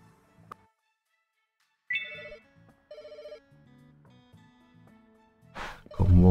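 Telephone ringing in the Pets Hotel video game, a few short synthetic electronic ring tones in separate bursts with quiet gaps, followed by a louder game noise at the end.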